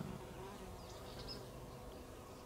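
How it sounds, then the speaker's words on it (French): Paper wasps buzzing steadily as they fly in and out of their nest near a flower pot, a continuous close insect drone without speech. "Ah, encore une guêpe qui sort."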